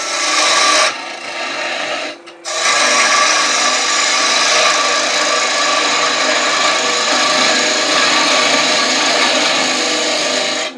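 A 3/8 inch gouge cuts a small wooden gnome ornament spinning on a lathe, giving a steady, loud rasping scrape that drops out briefly near the start before resuming and running continuously to the end.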